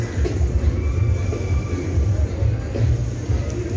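A horse neighs during an evening horse ride in Mexico City, a few whinnies heard over a steady low rumble of street and crowd noise, moderately loud and fairly close.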